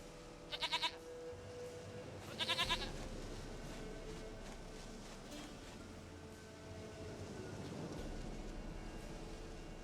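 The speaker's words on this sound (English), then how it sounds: "Goat of mine, dearest, sweetest goat." Goat bleats from The Witcher 3, two short close bursts early on, over a steady low game ambience with no other distinct sounds.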